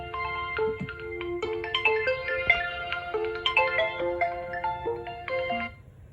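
A melodic ringtone plays from an Oppo A60 phone speaker, a bright sequence of clear chiming notes in a quick tune, fairly close and steady, fading out at the end with no talking.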